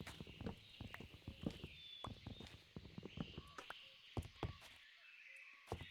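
Footsteps clomp along in a Minecraft horror mod, a steady series of hollow thuds at mid distance with a faint tonal drone behind them, falling quiet near the end.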